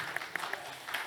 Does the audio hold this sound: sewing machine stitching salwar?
no